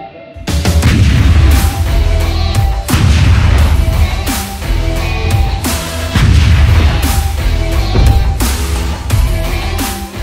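An M109A5+ BR self-propelled howitzer firing, with loud deep booms followed by long rolling rumbles, several blasts spread across the stretch with no talk.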